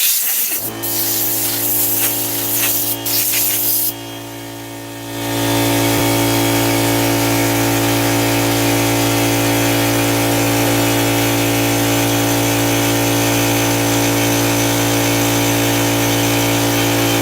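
A power tool grinds wood down into sawdust with a loud, steady, high-pitched whine that ramps up after a brief start and runs continuously close by.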